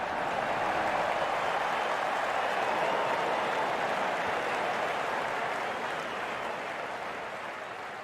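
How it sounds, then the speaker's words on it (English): Crowd applause in a cricket video game, a broad steady wash of clapping heard alone, gradually fading toward the end. "The crowd is enjoying every bit of this action."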